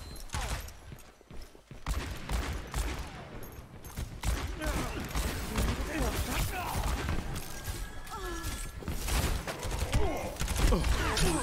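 Rapid, dense gunfire during an Overwatch match, sustained bursts mixed with ability effects, impacts and shattering, loud and busy throughout, with someone talking over it at times.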